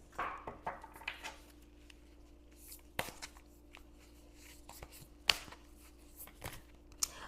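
Oracle cards being shuffled by hand, soft close riffling and tapping with scattered sharper card snaps over a faint steady hum, fairly quiet.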